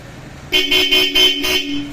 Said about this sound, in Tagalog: Tapos, busina.